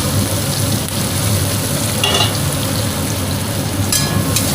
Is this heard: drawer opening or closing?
no